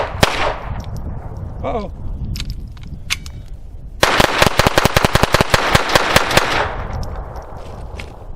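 A single gunshot rings out near the start, then after a pause a rapid string of loud, evenly spaced shots on a firing line continues for about two and a half seconds, with a brief spoken exclamation early on.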